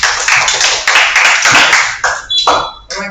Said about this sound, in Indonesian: kita tepuk tangan lah